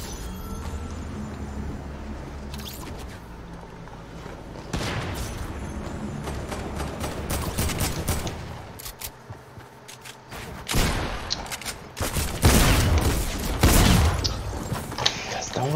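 Gunfire from a battle royale video game rattles in bursts and single booms over dense game noise, getting louder and heavier near the end, with no talk over it.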